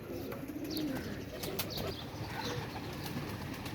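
Pigeons of a golden pair cooing in soft, low repeated calls, with a few faint chirps above steady background noise and no talking.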